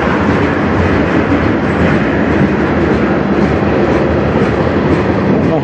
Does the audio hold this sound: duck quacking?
no